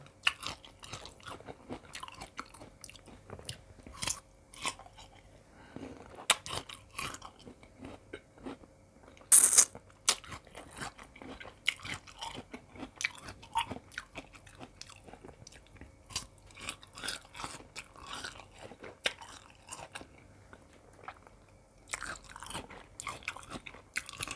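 Large, long pods of candied tamarind are bitten and chewed up close, giving a series of crisp, irregular crunches with soft mouth sounds between them, fairly quiet overall and without talking.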